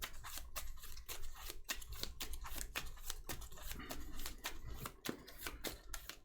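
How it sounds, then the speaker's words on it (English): A deck of Marvel Champions cards being shuffled by hand, close up, in a fast sequence of crisp riffles and snaps with short pauses between bursts, no talking. "and we're going to shuffle our deck."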